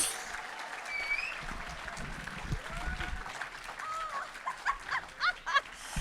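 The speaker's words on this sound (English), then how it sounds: "Please keep the applause going." Comedy club audience in Torquay applauds as a comedian comes on, a continuous wash of clapping and crowd noise with chatter and whoops mixed in, growing louder and more uneven toward the end.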